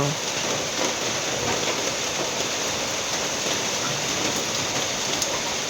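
Heavy rain pouring at night on a pig farm in Thailand, a dense, steady hiss with no let-up, close and loud throughout.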